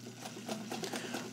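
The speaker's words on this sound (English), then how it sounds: "the machine is set up to sew, and I'm going to do a little stitching for you now." A vintage Italian-made Necchi BU home sewing machine stitches zigzag, its needle ticking in a quick, even mechanical rhythm, close and steady over a soft motor hum.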